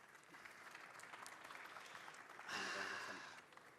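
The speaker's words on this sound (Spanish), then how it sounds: "Un aplauso para ellos." An audience at a mining conference applauds the panelists with faint, distant clapping that continues under the room noise and then briefly swells louder near the end.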